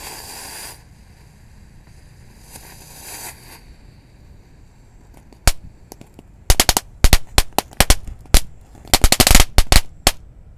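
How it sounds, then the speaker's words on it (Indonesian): A tank-shaped firecracker set off outdoors for a Ramadan evening gathering: a hissing fuse, then a rapid string of loud, sharp bangs and crackles close by that continue for several seconds. "yang pertama kita nyalakan mercon tank tempur ya"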